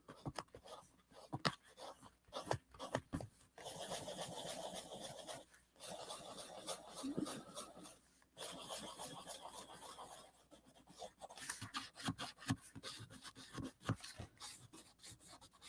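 A coloring pencil is sharpened by hand, a quiet, close rasping grind in repeated strokes and longer scraping runs, broken by brief pauses, faint overall.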